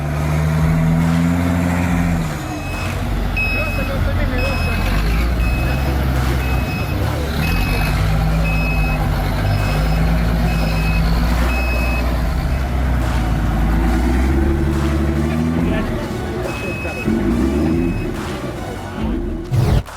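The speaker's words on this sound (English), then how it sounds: "The EFA W50 doubles as an off-road taxi. This truck first rolled out back in the days of East Germany." An East German EFA W50 off-road truck grinds along, its engine revving and labouring while a reversing alarm beeps in a regular repeating pattern, with faint voices and a clatter near the end.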